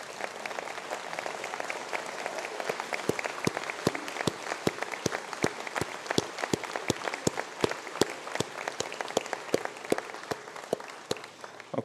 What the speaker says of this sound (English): we have a round of applause if you would like to stand up